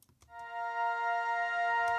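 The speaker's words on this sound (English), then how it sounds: "high pad layer, sounds like this" A high synth pad layer from a progressive house track swells in as a sustained, bright, bell-like tone with clear overtones, held steady and fairly soft, alone after a couple of faint clicks.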